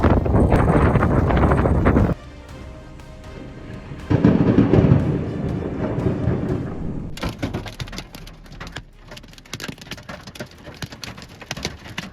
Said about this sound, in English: A supercell storm spun violently as lightning struck straight into the ground in an instant.